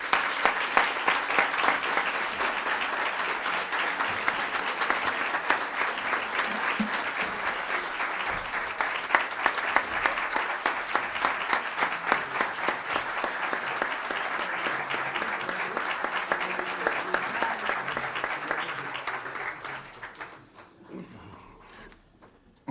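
Sustained ovation from an audience after a book presentation speech, dense close applause holding strong for about twenty seconds before fading out, with no speech over it.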